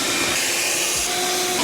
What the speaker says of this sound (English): I'm gonna vacuum these out one more time.